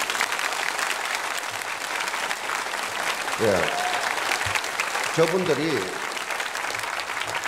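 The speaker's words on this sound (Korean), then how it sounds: "박수를 한번" A church congregation at a Sunday worship service applauds steadily throughout, a continuous wash of many hands clapping, with someone speaking briefly over it in the middle.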